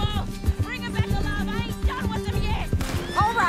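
A horse in the Red Dead Redemption 2 video game whinnies and neighs amid clip-clopping hooves, with spoken voices and game sounds mixed in close by.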